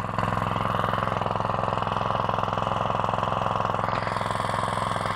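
A small engine runs on half choke with a steady, loud, evenly pulsing idle throughout, with no talk over it.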